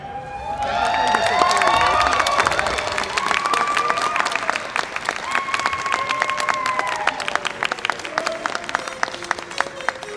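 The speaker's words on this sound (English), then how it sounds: "Please give a big round of applause to Retzko from Agretzko." A convention audience at Visioncon 2023 gives a cosplay contestant loud, sustained applause with cheering, while music with bright tones plays over the crowd and the clapping stays dense to the end.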